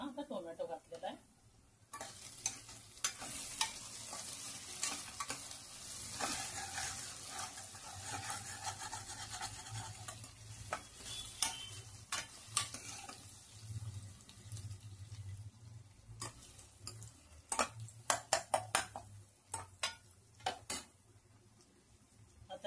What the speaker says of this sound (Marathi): आता याला आणखी थोडं फ्राय होऊ देते